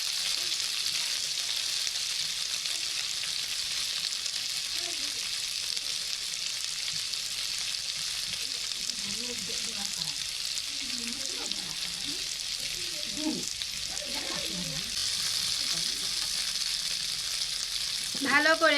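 Ground spice paste and fish curry with banana flower sauté in a pan, a continuous soft sizzle with scattered scraping and clinking of a spatula through the middle and a brief sharper clatter at the end.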